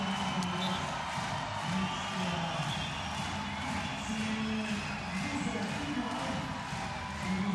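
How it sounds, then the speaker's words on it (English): Turkish fans at a volleyball match send up a sustained roar of cheering and crowd noise, a broad steady wash that fills the whole arena, with a commentator talking over it. "listen to the cheer from the Turkish fans"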